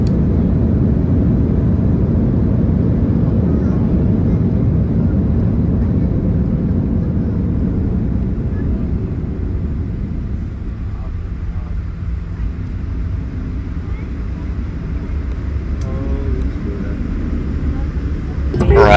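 A Jetstar airliner taxis to the gate after landing at Osaka, heard from inside the cabin as a steady low rumble and hum that eases slightly partway through, with a few faint clicks near the end.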